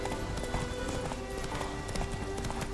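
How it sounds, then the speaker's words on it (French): Horse hooves clip-clop in a steady trotting rhythm as a horse is ridden in the video game The Witcher 3, a moderate, even beat against a faint game backdrop. "ça va faire balader mon cheval un peu"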